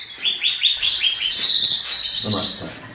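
Canaries in a breeding cage chirp in a rapid, bright, continuous run of high tweets, close and clear with almost no other sound.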